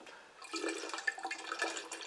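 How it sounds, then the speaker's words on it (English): Water runs into a plastic water brick storage container, a close, steady gurgling pour that begins abruptly and continues at a moderate level, with no talking. "And you're filling your water super, super easy without any kind of problem. It's filling up fairly quick."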